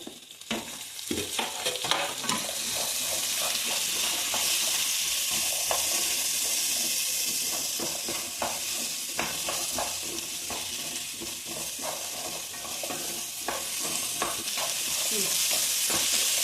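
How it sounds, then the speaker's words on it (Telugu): Potato and bean pieces frying with salt in oil for a vegetable biryani, a loud, continuous close sizzle with frequent clacks and scrapes of a spatula stirring throughout, and no talking. "సాల్ట్ వేస్తే మంచిగా ఫ్రై అవుతాయండి. తర్వాత ఆలు, తర్వాత బీన్స్,"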